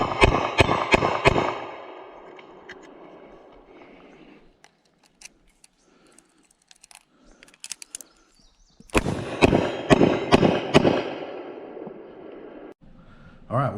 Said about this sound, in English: First cylinder's 38 special, second cylinder 357 Magnum.